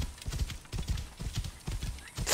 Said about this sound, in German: wenn du rufst, dein Pferd kommt einfach von irgendwo